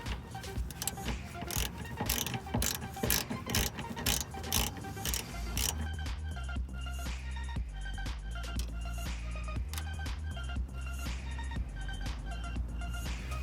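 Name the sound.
13mm ratchet unscrewing alternator bolt on Chevrolet Uplander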